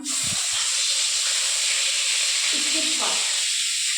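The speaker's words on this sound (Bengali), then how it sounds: "কড়াই তেল আছে, তো তেলের মধ্যে পেঁয়াজ বাটাটাকে দিয়ে দিলাম।" Onion paste hitting hot oil in a wok gives a strong, continuous steamy hiss throughout, with a few low knocks and brief background voices.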